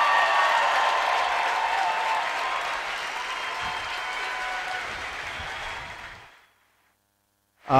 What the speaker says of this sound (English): let Dustin Mowrey take his lap so that the crowd noise isn't too overwhelming